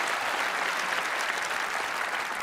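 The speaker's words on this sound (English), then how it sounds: "applaud for that" Large audience at the Oscars ceremony applauding, a steady, dense roar of clapping heard from a distance, even in level throughout.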